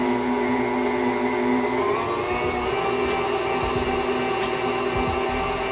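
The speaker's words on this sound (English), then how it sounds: "I'm just gonna let this mixer go one more time for about 20 to 30 seconds just to make sure all those ingredients are well incorporated" An electric mixer runs continuously through red velvet cupcake batter, a steady motor whine and hum that holds at an even loudness with no speech.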